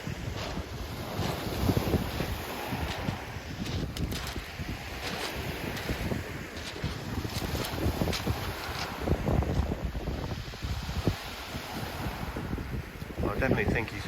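Wind gusting across the beach at Pevensey while fishing, a steady roaring buffet of wind noise on the microphone with a surf-like wash underneath, continuous and fairly loud, with voices faintly under it.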